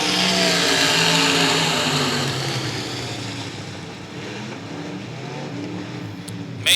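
Dirt track race cars at the Texas Grand accelerate together at the green flag, a loud, dense engine roar that sustains and eases slightly as the pack pulls away.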